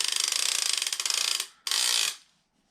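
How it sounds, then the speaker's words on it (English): A fishing reel clicker ratchets rapidly in a steady buzzing run, stops briefly, then spins again in a short burst before falling silent. "That absolutely sold me on this reel when I heard that clicker on it"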